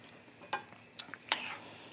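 Eggplant caponata sautés in a pan with red wine vinegar, giving a faint steady sizzle broken by a few light stirring clicks and taps.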